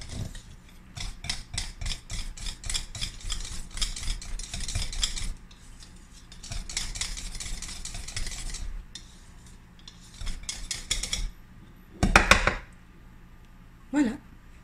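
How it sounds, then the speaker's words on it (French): A spatula mixing Japanese soufflé pancake batter in a bowl, with bursts of rapid scraping and rubbing strokes separated by pauses, then a couple of sharp knocks near the end, close and fairly quiet. "Je vais prendre celle-là que j'ai déjà utilisée et je vais mélanger comme il faut."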